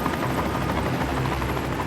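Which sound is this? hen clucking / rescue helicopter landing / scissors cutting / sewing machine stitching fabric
rescue helicopter landing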